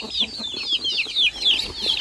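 Rhode Island Red chickens being caught and put into a pen, clucking in quick repeated squawks close by, loud and agitated without pause.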